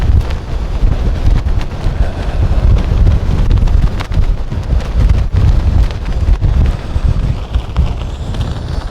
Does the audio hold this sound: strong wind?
yes